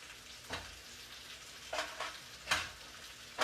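Food sizzles steadily in a pan while a utensil stirs it with several scraping strokes that come in uneven bursts, close and fairly soft.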